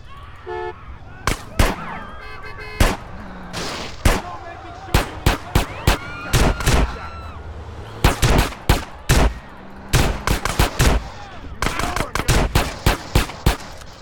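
Rapid bursts of police gunfire in Grand Theft Auto San Andreas, loud sharp shots in irregular clusters and volleys across the scene, with some game voices and background noise between the bursts.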